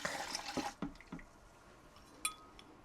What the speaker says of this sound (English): now I'm going to add 1 cup of lukewarm water. I'm going to add that right on in there with the milk.